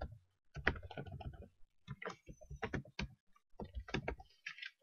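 Keys clack on a computer keyboard in short bursts of close, crisp taps with small pauses between, while an email account is set up in Outlook 2010.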